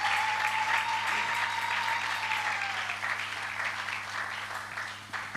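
A church congregation applauds during a Sunday service, a dense sustained clapping that holds steady and gradually thins, with a faint tone lingering under it.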